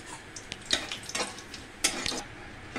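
Chili, cinnamon, cardamom and cloves stirred in a pan for basanti pulao, a quiet scatter of scraping spoon strokes and light clinks over a faint low sizzle, close and without talk.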